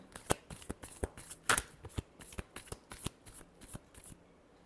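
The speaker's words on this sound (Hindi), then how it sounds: "last shuffle" Tarot cards shuffled in a rapid series of crisp riffles and slaps, about a dozen sharp bursts over a few seconds, close and clear with no talking.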